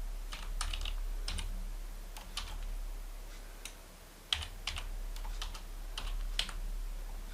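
A name is typed on a computer keyboard in short bursts of quick, close key clicks separated by brief pauses, with a faint low hum underneath and no talking.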